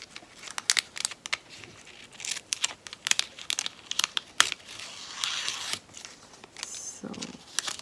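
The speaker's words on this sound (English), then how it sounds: "Use my scissors and cut it out." Scissors snip excess paper from a handmade double slider greeting card, giving a series of close, sharp cuts and crinkles in irregular bursts, with quiet paper rustling between them.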